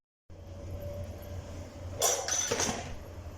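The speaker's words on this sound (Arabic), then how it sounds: "هنا جينا نغسل المواعين" Dishes clink and clatter in a burst of washing, with water-like hiss, over a steady low room hum.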